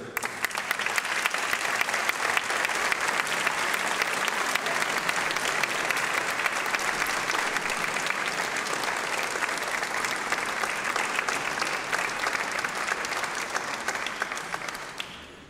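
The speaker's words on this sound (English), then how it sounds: "please give him a strong applause" Sustained, dense applause from a conference audience at the Forum 2000 opening, a steady wash of many hands clapping for about fifteen seconds before tapering off at the end.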